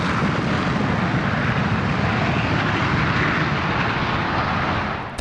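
An F-16 fighter jet taking off at an air display, a loud, steady roar of engine noise that fills the whole stretch without a break and fades slightly at the end, with no voices.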